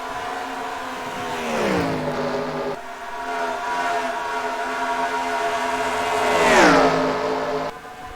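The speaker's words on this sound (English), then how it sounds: "it's a 410 sprint car engine" A loud 410 sprint car engine roars nearby, its pitch sweeping down twice as it revs off, holding a steady harmonic drone in between.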